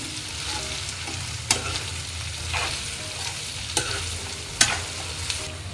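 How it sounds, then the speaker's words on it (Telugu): Spicy brinjal masala fry is stirred in a pan after salt goes in, with a steady sizzle and occasional sharp scrapes and clinks of the spoon, close and moderately loud. "అది మొత్తం కలిసే వరకు కలుపుకోవాలి"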